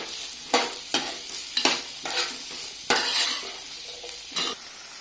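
Onions fry and sizzle in a pan for dal fry while a spoon or spatula stirs them, with repeated scraping strokes against the pan over a steady soft sizzle, close by and without talking.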